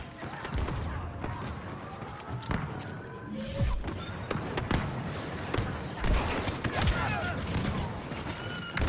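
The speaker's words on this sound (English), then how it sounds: "Droids seem to be shooting straight for once." Droids fire blasters in a Star Wars Clone Commando game on Felucia, a dense run of sharp zaps and thuds scattered through a busy battle mix with a voice murmuring underneath.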